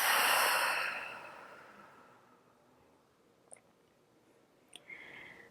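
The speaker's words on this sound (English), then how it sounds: "Take a slow inhale." Slow, soft exhale during a yoga breathing exercise, a breathy whoosh that fades over about two seconds, followed by near silence and a couple of faint clicks.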